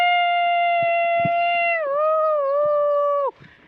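A man imitates a jackal's howl with one loud, sustained, tonal wail held close up. The pitch dips and wavers partway through before cutting off abruptly.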